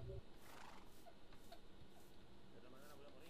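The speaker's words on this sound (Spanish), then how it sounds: "¿Qué hace el caballo aquí subió al árbol, tío?" A horse in the Minecraft video game whinnies faintly several times over a soft, steady background hiss.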